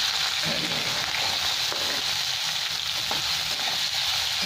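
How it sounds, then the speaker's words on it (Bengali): Onions sizzle and crackle steadily in a hot pan, with occasional soft stirring scrapes over the continuous frying hiss. "এটা ভালো করে ভেজে নেবো একটু"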